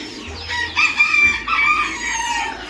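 Young chicks chirp in their enclosure, a cluster of bright, overlapping high peeps in quick bursts over a low background hum, fairly close and without talk.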